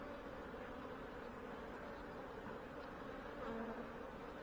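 Honey bees buzz in a continuous, even drone around an open hive during a frame inspection, soft and steady throughout.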